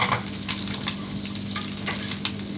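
Oyster mushrooms hitting a hot pan, a steady sizzle of frying with stirring clicks and scrapes, close and continuous with no voices.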